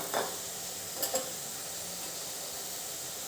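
Green garlic tipped into a hot pan of oil for a green onion and sev curry, giving a soft hiss with a couple of faint stirring clinks, fairly quiet and steady with no talking.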